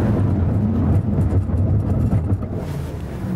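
Lamborghini Aventador braking hard from 60 mph at Nardo, a loud steady low road and drivetrain roar that eases slightly in the final second as the car slows.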